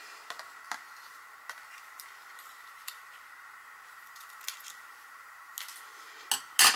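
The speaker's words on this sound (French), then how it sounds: "Et je vais couper l'excédent de papier." Scissors snip off the extra paper around a small paper whale craft. Sparse, quiet clicks and snips are spread out over several seconds, closing with a quick cluster of louder cuts at the end.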